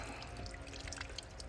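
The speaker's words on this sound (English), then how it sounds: "See, the water just comes on out." Water trickles and drips off a raised, ceramic-coated car hood, a faint, steady patter of small drops with scattered bright splashes and no talking.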